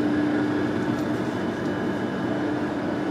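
A Lyon metro train travels along the line, a steady, loud rolling rumble with a faint whine on top, heard from inside the car without talking.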